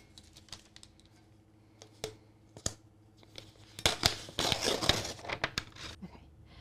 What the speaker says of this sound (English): So I'm gonna go ahead and start peeling this off